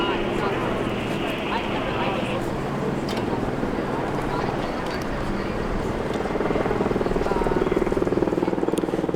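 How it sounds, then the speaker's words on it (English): Aircraft circling over a residential fire area in Agua Dulce, a steady rotor-like drone that swells slightly toward the end, with a voice talking over it. "Aircraft circling the area,"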